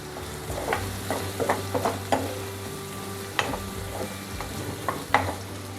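Tomatoes fry with turmeric and coriander powder for gongura dal, a steady, soft, close sizzle with repeated spoon scrapes and light knocks against the pan, and no one speaking.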